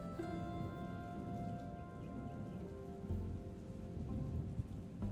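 Steady heavy rain falls with thunder rumbling during a storm, continuous and enveloping, with no voices.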